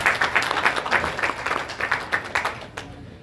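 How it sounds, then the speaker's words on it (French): An assembled crowd at a community address claps in thanks, a short run of fairly close, uneven hand claps that pulse steadily and then thin out toward the end. "je voudrais qu'on l'applaudisse pour lui dire merci"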